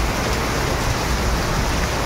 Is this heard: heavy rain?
yes